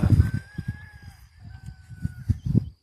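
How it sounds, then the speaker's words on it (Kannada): A rooster crows with a long drawn-out call, accompanied by nearby clucking from chickens in an open outdoor farm setting in the early morning. "ಕೋಳಿ ಕೂಗ್ತಾ ಇದೆ"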